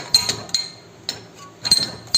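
Sharp metallic hammer strikes ring out on a ball joint puller during work on a SEAT Ibiza 6L, a couple of early hits, a lone blow midway, then a quick cluster of clanks near the end.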